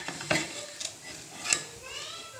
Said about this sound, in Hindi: इस तरह से हमने सारे चावलों को हिला लेना है।